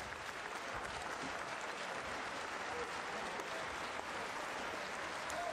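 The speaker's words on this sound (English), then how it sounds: "applauding their crowd." Basketball arena crowd applauding at a Basketball Champions League game, a sustained wash of distant clapping heard steadily and evenly, fairly faint under the broadcast.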